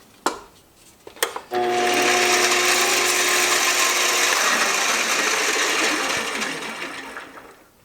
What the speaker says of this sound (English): I can't believe my cheap little Canadian Tire hacksaw doesn't work very good.